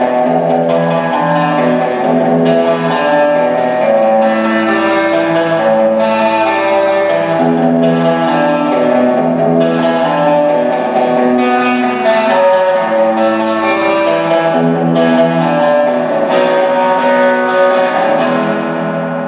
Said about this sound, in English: put it on full reverb, the simulated rotating speaker